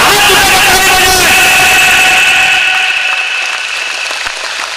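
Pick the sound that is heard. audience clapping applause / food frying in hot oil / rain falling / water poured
audience clapping applause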